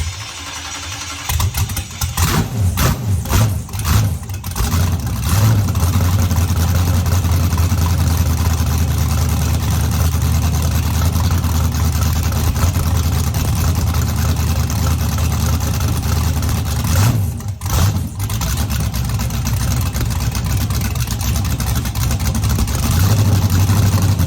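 A rebuilt LS V8 built for big boost, with L33 pistons and rods, cranks and fires, then settles into a loud, steady, rumbling idle that runs for the rest of the stretch, with brief revs and dips along the way.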